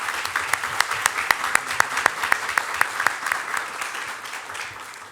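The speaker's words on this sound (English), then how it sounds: "I would like to invite you all to help me give her a round of applause" An audience at an inauguration ceremony claps steadily for several seconds, with dense, sustained applause and a few sharper, louder individual claps standing out, heard at moderate distance with no voices over it.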